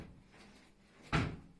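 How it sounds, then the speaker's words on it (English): A drawer is pulled open and pushed shut in a quiet room, a soft slide followed by a single close, firm knock near the end. "I hear opening and closing drawer"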